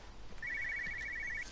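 An old telephone rings in the game Everybody's Gone to the Rapture with a single sustained electronic-sounding ring about a second long, moderately loud over a quiet, slightly hissy background.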